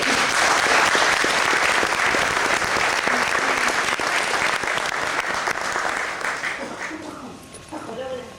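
An audience applauds a professor Consuelo Carracedo at a lecture on Tutankhamun, a loud sustained burst of clapping that fades toward the end.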